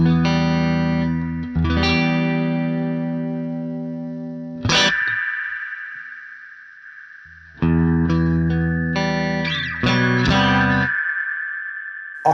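Electric guitar through a sparkly, bright reverb in Guitar Rig 6 software, with sustained chords and single notes that ring out and decay into shimmering, top-heavy tails, several new strums over about twelve seconds, played alone without talk.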